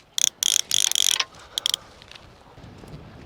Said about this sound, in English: I'm going to put my second reel on.